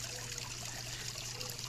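A small waterfall trickles into a backyard koi pond, a soft, continuous splashing and babbling of water with a low steady hum underneath and no voices.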